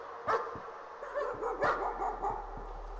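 A dog in the horror game Layers of Fear gives a few sharp barks and yips at a distance, faint and spaced out over a low, quiet background.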